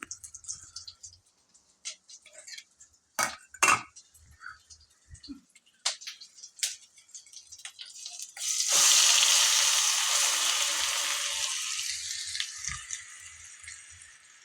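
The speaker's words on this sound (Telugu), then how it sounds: "ఇప్పుడు 2 స్పూన్లు నూనె వేసి పేస్ట్ వేస్తాను." Onion chili paste dropped into hot oil in a pan bursts into a loud, steady sizzle partway through, then slowly fades, after earlier scattered kitchen clatter and taps.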